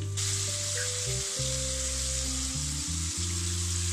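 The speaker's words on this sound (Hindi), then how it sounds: "अब मैं इनको फिर से फ्राई करूंगी। 4 से 5 मिनट के लिए इसको हम फ्राई करेंगे मीडियम फ्लेम पे।" Chicken drumsticks deep fry in hot oil over a medium flame, giving a steady, dense sizzle and hiss. A low tonal hum runs beneath it, and no one speaks.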